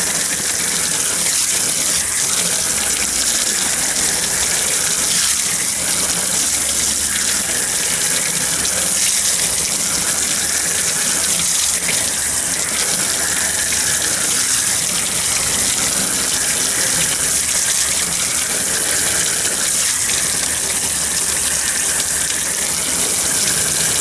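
Water gushes steadily from a sink tap while freshly caught fish, lake trout among them, are rinsed clean at a fish-cleaning table; a continuous, fairly loud broadband rush with no talk.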